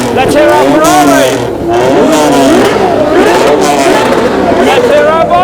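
A Ferrari at a supercar show is revved hard, its wailing engine rising and falling in repeated sweeps over loud crowd chatter and cheering.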